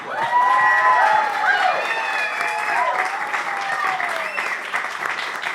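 Warm applause from wedding guests follows a toast, steady clapping from a roomful of people with cheering and chatter mixed in throughout.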